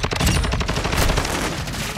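Automatic gun firing rapidly in the video game Call of Duty Modern Warfare 2, a dense, loud stream of shots with heavy low-end punch running nearly unbroken for two seconds.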